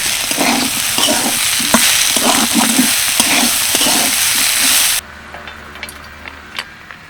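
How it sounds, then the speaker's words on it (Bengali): Drumstick leaves are fried in ghee in a pan and stirred, giving a loud continuous sizzle with scraping strokes for about five seconds, then it cuts to a quiet room with faint clinks. "দিয়ে দিচ্ছি এক চামচ ঘি ভালো করে মিশিয়ে নেব"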